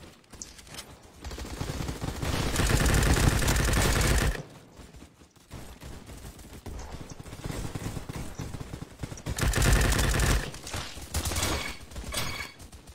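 Gunfire in a Roblox game, bursts of rapid, loud shots in two long volleys separated by a quieter gap, with rattling mechanical clatter around them.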